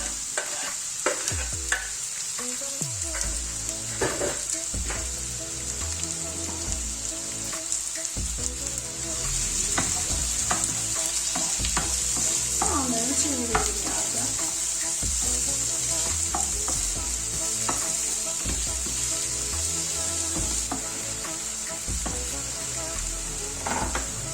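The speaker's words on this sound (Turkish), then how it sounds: "Doğramış olduğum iki tane kuru soğanı tavama alıyorum." Two chopped onions sizzle steadily in hot oil in a pan while being stirred, a loud continuous frying hiss broken by scraping stir sounds throughout.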